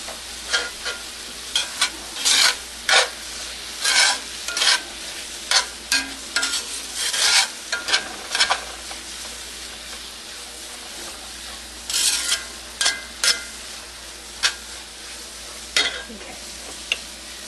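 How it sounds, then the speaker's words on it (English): Onions and garlic sautéing in a pan for Swiss steak, a steady sizzle broken by repeated sharp scraping and stirring strokes, close and fairly loud, with no talking. "I want to throw my garlic in there with it. Get that going"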